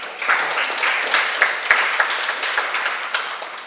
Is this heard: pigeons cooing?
no